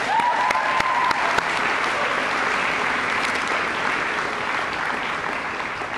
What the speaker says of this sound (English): acknowledge their teachers with a round of applause